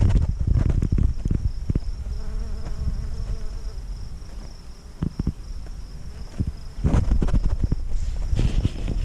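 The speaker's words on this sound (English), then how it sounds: "Just bees doing their thing." Bees buzz around garden flowers in a home garden in late May, a steady insect hum with nearby wingbeats rising and passing, punctuated by a few louder close buzzes and rustles.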